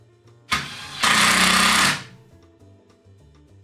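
A power driver zips a screw into scrap wood for a shelf in one loud, close burst of about a second and a half, with a short lead-in whir before it, then quiet room sound.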